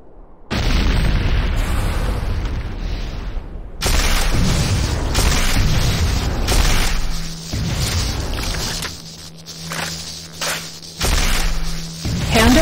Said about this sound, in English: C4 is set. Fire in the hole!